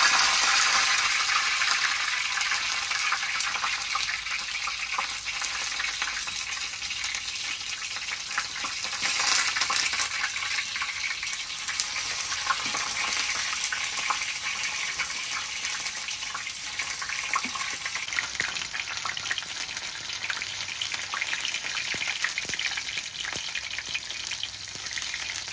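Chepa shutki fritters with pumpkin leaves fry in hot soybean oil in a kadai, a constant close bubbling sizzle with scattered pops, steady throughout with no voices.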